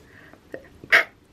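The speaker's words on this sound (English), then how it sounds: "Oh, I feel a sneeze." A single close sneeze bursts out loudly near the end after a few quieter breaths and small vocal sounds, with no talk over it.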